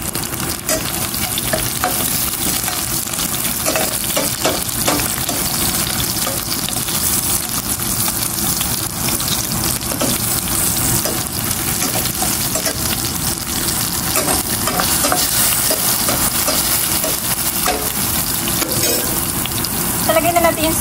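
Garlic fries for adobo in a pan with a dense, constant sizzle and occasional stirring scrapes, loud and close with no break for the whole stretch.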